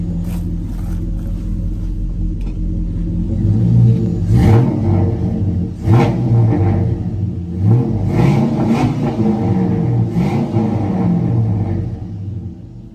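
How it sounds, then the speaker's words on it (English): An LS V8-swapped Chevrolet C10 truck revs repeatedly, the engine climbing and falling in several loud, close bursts over a steady rumbling idle, with no talking. "Let me rev it up."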